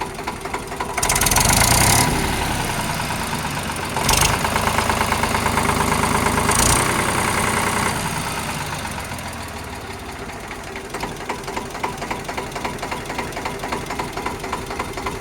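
An Eicher 368 tractor engine runs steadily at close range, loud with a knocking, mechanical chug that rises briefly and then settles into an even idle, with no talking.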